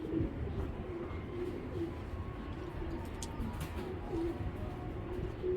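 Racing pigeons coo in soft, repeated low calls, close and steady against a faint background hum.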